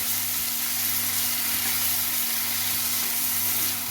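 Ginger garlic paste frying in a pan for mutton keema, a steady even sizzle and hiss throughout with a faint low hum underneath and no talk.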